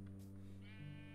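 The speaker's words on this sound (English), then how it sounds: "we need to kill a sheep" A sheep in the Minecraft game gives a single short bleat, faint and brief, with no speech over it.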